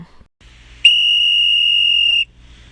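A single long, piercing whistle blast from shopping mall security guards, shrill and steady for over a second, cutting sharply through faint background noise.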